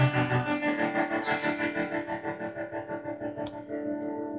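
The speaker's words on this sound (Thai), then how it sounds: "นี่ผมตั้งไว้เป็น โมดูลเลชันรีเวิร์บนะครับ" Guitar played through a Ventris Dual Reverb pedal set to a modulated reverb, producing sustained, shimmering chords with a pulsing wobble and a long wash of tail, steady and close with no talking.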